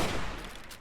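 Gunfire sounds in a quick burst as someone shoots at bottles, giving a loud, sharp crack that fades out within a second.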